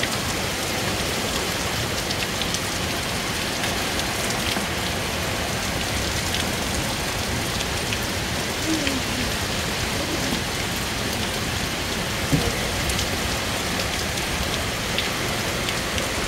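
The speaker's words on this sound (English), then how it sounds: "Rain." Steady heavy rain pouring down during a storm, a dense continuous hiss of drops on surfaces that holds at an even level throughout with no voices.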